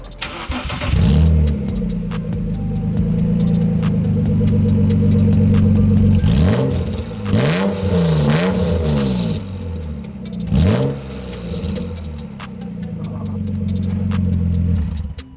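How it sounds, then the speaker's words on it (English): A car engine running with its muffler removed during exhaust leak repair, a loud, raw, unmuffled drone that rises and falls through several revs before settling back to a steady idle. "since the muffler's off, you know we have to start it out with no muffler"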